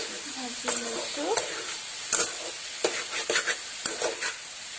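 Coconut frying on a low gas flame for coconut ladoo, with a steady soft hiss and sizzle broken by several scraping stirs of the pan, close and moderately quiet.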